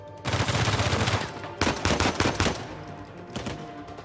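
Gunfire from the video game Uncharted 4: loud, dense bursts of automatic shots fill the first second and a half, return in a second volley, then taper into a few scattered shots, with no talking.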